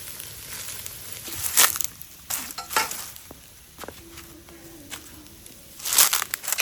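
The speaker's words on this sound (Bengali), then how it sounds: "ওইদারে দিদি বড়ি ভাজ দিছেন" Small lentil dumplings fry in a pan with a soft, intermittent sizzle, broken by sharp scraping and stirring knocks of a utensil, no talk.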